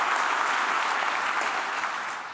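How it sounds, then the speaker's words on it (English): Conference audience at Laracon US 2023 in Nashville applauding, a steady, dense wash of clapping from a large crowd, even in level throughout and easing slightly at the end. "let's give them a big round of applause, because they work on the stuff as well."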